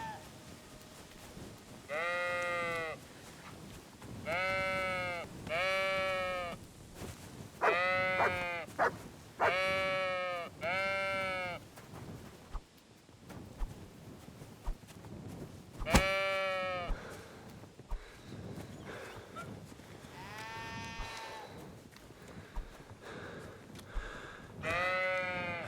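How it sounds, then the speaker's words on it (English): Sheep bleat repeatedly in Kingdom Come: Deliverance II, loud harmonic cries coming in clustered bursts across the scene over a steady ambient bed, with brief gaps between calls. "Hey, Mutt, can you, like, herd these sheep"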